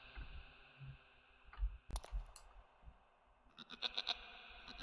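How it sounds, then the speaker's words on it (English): A goat in the Stormworks video game gives a few short, faint bleats in two brief bursts over a quiet background, with no one talking. "Shut up, goat."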